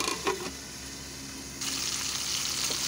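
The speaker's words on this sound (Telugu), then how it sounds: "2 నిమిషాల్లో అల్లం వెల్లుల్లిపాయ మగ్గే వరకు మూత పెట్టి మగ్గనివ్వాలి" Ginger garlic paste cooks in a covered pan, a soft steady sizzle that grows a little louder partway through, faint and close with no talk.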